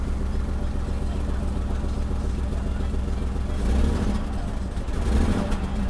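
A Mercedes W126 300SEL engine runs roughly with weak acceleration and heavy shaking, a steady dense rumble with uneven surges toward the end, heard from close inside the car.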